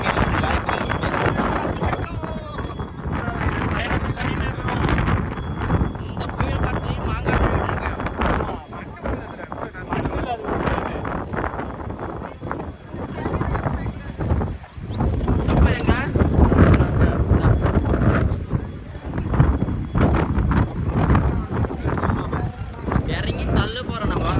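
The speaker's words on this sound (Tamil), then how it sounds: "காற்று தான் ரொம்ப அதிகமாக இருந்துச்சு" Strong wind buffets the microphone in heavy, rumbling gusts throughout, with voices and crowd noise faintly underneath.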